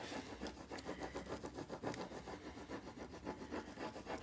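Steady back-and-forth rubbing strokes over painted home decor, a rhythmic scraping that repeats many times at close range with no talking.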